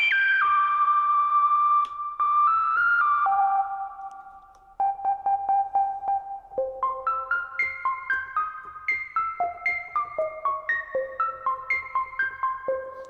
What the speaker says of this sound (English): that's all just the filter you're hearing right now